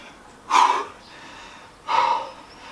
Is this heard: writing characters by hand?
no